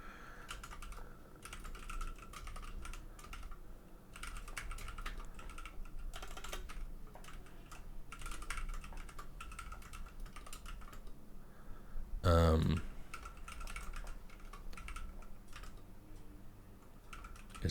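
Steady typing of code on a computer keyboard, with dense rapid clicks running throughout, a loud clack near the end, and soft talking at times in the background.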